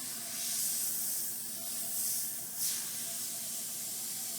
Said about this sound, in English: if you notice these subtle soft shading lines I'm doing, this airbrush is performing perfectly